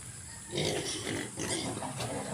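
Nine piglets eating and grunting at feed time on a pig farm, a steady run of close oinks and grunts with snuffling and chewing noises throughout.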